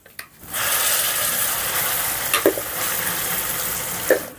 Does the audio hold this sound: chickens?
no